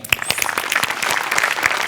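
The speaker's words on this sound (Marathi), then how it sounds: "आणि ऑब्विसली आपल्या आर्ट डिपार्टमेंटसाठी टाळ्या." An audience applauds the art department at a comedy stage show, a dense, steady round of clapping from many hands throughout.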